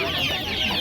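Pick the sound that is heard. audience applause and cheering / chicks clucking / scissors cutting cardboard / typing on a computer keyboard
chicks clucking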